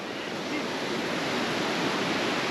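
Mountain river rushing along a trekking route to Kedarnath near a confluence of two rivers. Loud, steady broadband roar with no pauses throughout.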